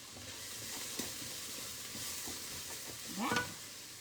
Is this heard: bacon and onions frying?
yes